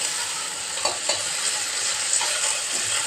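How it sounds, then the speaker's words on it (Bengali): Pointed gourd slices fry in a pan with a steady broad sizzle, interrupted by a few soft scraping stirs of a spatula, close and continuous, with no talking. "আর একটু লাল লাল করে ভেজে নেব,"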